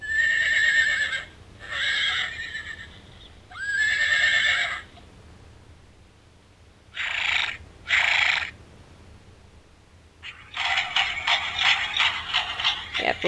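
A Build-A-Bear horse toy plays electronic neighing and whinnying sounds in several separate bursts with pauses between, followed by a longer buzzy, bright sound clip at the end, close and clear with no talking.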